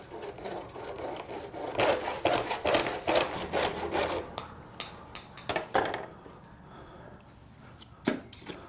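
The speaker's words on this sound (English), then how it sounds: "Now I'm ready to cut this sleeve in half. I'm just going to use what I have. It's a saw here." A hand saw cuts through a plastic sleeve for a DIY RV trailer passthrough port, giving close, rhythmic rasping strokes that fade to a few sparse scrapes near the end, with no talking.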